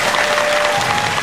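Audience applause at a Thai park music event, steady dense clapping filling the whole moment at a fairly loud level with no voices over it.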